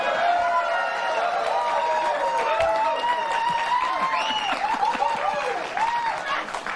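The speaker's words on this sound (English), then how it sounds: "I didn't expect applause there" Studio audience applause on a late-night television comedy show, a dense steady wash of clapping and some cheering that holds at full strength for several seconds, with voices heard through it.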